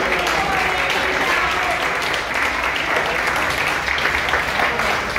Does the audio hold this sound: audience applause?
yes